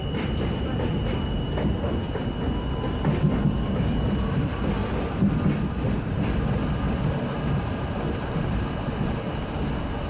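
A 1964 Budd R32 New York City subway train on a Jamaica Center-bound Z skip-stop run rumbles steadily and loudly, with a continuous roar of wheels on rails and faint squealing tones.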